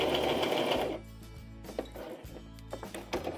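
A sewing machine runs steadily for about a second while stitching a waterproof rucksack, then stops, leaving faint clicks and handling taps from the machine and fabric.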